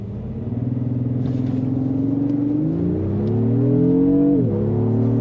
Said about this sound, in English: So I'm pretty excited to see what we can do 0 to 60-wise in this vehicle.